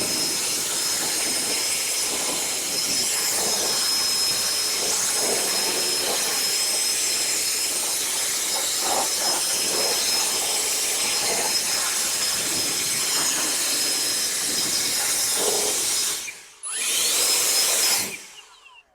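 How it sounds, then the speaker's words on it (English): A cordless Ego leaf blower blasts a steady, loud broadband rush of air while drying water off car wheels, holding continuously before cutting off briefly and restarting for a short final burst. "I've got, again, my Ego leaf blower. I'm going to go ahead and blow dry these off"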